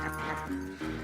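Horse hooves in the video game Red Dead Redemption 2: a rapid clip-clop of hooves under a tonal, harmonic layer of game sound, brief and close, with a voice mixed in.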